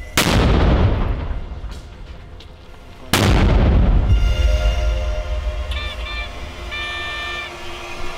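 Two heavy 82 mm mortar launches on a front line, each a loud sharp boom with a rolling echo that trails off, the second followed by distant faint tones.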